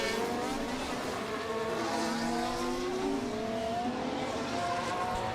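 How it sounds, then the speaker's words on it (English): Formula 1 race car engines whine in the F1 Manager 2023 game, with a continuous high revving drone and rising and falling gear pitches that persist loudly, no talking over them. "Bit of engine noise there for you as well."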